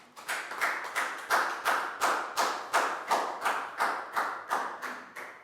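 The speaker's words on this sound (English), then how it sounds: "Big round of applause for Pangpon" A small group of students clapping in unison in a classroom, a rhythmic series of about fifteen sharp, evenly spaced claps, close and fairly loud, with no talk over them.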